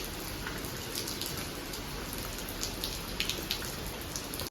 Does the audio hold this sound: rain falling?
yes